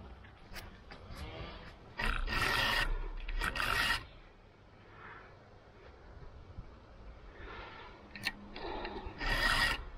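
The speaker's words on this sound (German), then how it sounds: "Vor allem wenn du im 90er Schwert noch feilen musst." A hand file rasps along the chain of a STIHL MS500i chainsaw with a 90 cm bar, in several short bursts of close scraping strokes separated by quieter pauses.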